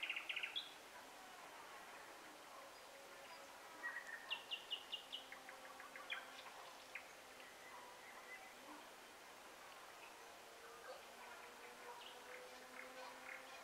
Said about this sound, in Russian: Птички у нас поют вечер.